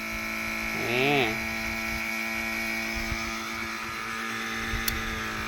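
A homemade solar-powered water pump running off a single solar panel gives a steady, even motor hum throughout, with a voice briefly rising over it near the start.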